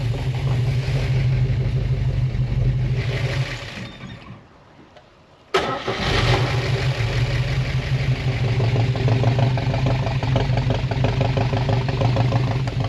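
A car engine idles after camshaft work, rough and loud with a deep rumble. It shuts off for about two seconds, then cranks and restarts into a steady, uneven idle. No one speaks.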